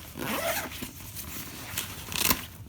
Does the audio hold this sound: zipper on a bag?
yes